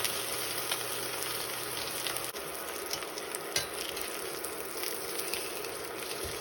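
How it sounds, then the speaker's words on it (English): Pork chops sear in a hot pan with a steady, dense sizzle and crackle, close and continuous, with a couple of faint knocks along the way. "Gonna sear both sides for 2 to 3 minutes, and we're gonna flip it over and sear on the other side as well."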